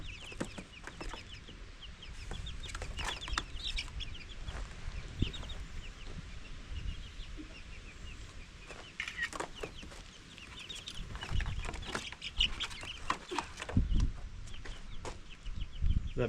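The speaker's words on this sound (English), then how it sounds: "Time to put the chicks in the coop." Young egg-laying chickens cluck and chirp in a new coop, a busy mix of soft clucks and sharper calls with occasional bumps and rustles, fairly close and without speech.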